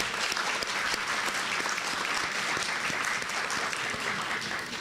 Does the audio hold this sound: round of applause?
yes